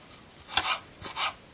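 Knife cutting dill on a cutting board in a home kitchen: a few quick, close scraping strokes in an otherwise quiet moment.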